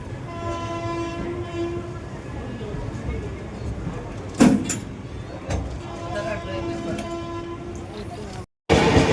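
The SMVT Bengaluru Superfast Express pulls away from a station platform, its horn sounding in long tonal blasts over a steady rumble and clatter of wagons, with a sharp bang midway and a brief cut near the end.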